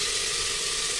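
Cauliflower and potato tipped into hot oil with grated tomato, cumin and asafoetida, giving a loud, steady, close-up hiss of sizzling that fills the whole moment without pause.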